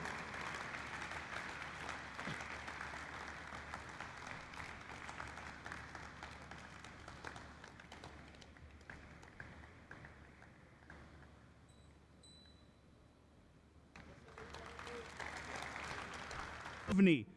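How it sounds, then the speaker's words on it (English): An audience at a company's IPO listing ceremony claps in sustained applause that fades to near quiet, then briefly swells again before a loud thump at the close. "please keep your hands together and start clapping for Mr. Varun Kapoor"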